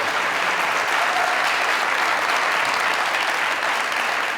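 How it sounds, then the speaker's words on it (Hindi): Sustained applause from a studio audience at a Punjabi comedy talk show, a dense steady clapping that fills the whole stretch with no voices over it. "तालियां है इस सवाल पे यार।"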